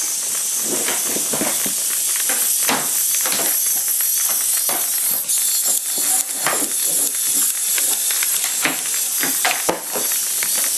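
Dense, rapid ticking and skittering of Hexbug robot toys crawling on a floor nearby, a continuous scratchy buzz with no voices.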